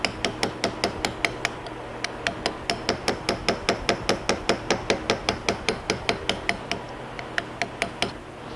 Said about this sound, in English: I'm going to take a little hammer and just gently tap these out.